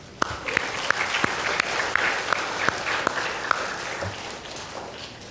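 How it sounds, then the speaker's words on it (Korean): A church congregation applauds during a sermon, a steady wash of many hands clapping at moderate volume with a few sharper individual claps standing out across the whole stretch. "박수."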